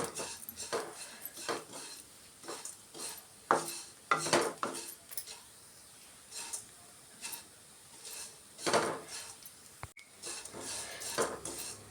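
A utensil stirs and scrapes avalakki (flattened rice) as it roasts in a pan, making intermittent metallic clinks and scrapes in short, irregular bursts, close and fairly quiet.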